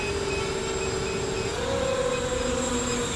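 An Emax 2805 2800kv motor quadcopter with 5040 props on a 3s battery punches out at full throttle, a loud continuous whine that steps up in pitch partway through, with no voices.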